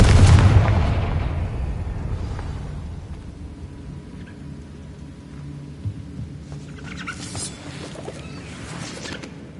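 A Confringo spell blast in Hogwarts Legacy bursts as a loud, deep boom right at the start, then rumbles and fades into a quieter ambient tail with a few faint scattered game sounds.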